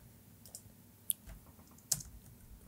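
Computer keyboard used to copy and paste text: a few faint, sparse key clicks with two sharper taps standing out in a quiet room.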